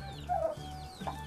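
A fierce-looking rooster on a poultry farm gives two short clucks, the first slightly longer and the second brief, close by with no voices.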